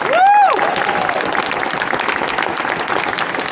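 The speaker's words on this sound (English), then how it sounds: "Could we give them one more round of applause?" A large audience at the Smithsonian Craft Show opening remarks breaks into dense, sustained applause close by, with a brief whistle-like tone rising and falling at the start.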